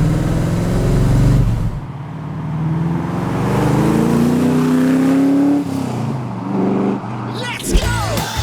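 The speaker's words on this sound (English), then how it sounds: "I am driving a Ford GT40" A 2013-built Ford GT40 replica engine runs under steady driving, a loud, continuous low growl that rises in pitch with acceleration, while a person talks over it for most of the stretch.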